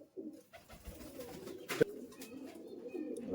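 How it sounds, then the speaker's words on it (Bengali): Giribaz pigeons from Murshidabad coo in soft, low bursts through most of the stretch, with a brief sharper sound midway and faint background activity around them. "পায়রাগুলো ছাড়ো এই উপরে ছাড়ো একবার দেখি কেমন পায়রা"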